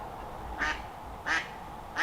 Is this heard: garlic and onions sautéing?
no